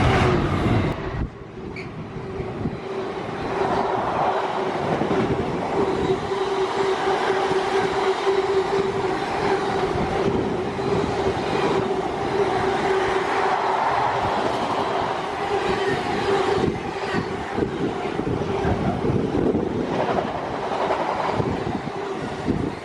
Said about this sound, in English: It's the first blooming freight